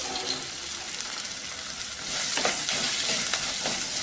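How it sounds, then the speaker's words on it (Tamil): Onions sautéing in a pan for a pepper kulambu, a continuous close sizzle that grows louder and brighter halfway through, with occasional stirring scrapes and no voices. "நல்லா வதங்கட்டும்."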